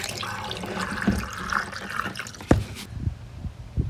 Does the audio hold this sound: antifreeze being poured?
yes